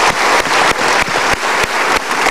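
A studio audience on an Indonesian talk show claps loudly and steadily, the applause swelling in rhythmic waves close by.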